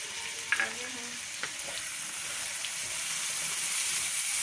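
Tomatoes hit hot oil in a pan with fried eggplant and potatoes, giving a soft continuous sizzle with a few small pops and stirring clicks early on, fairly quiet and steady.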